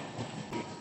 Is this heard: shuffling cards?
no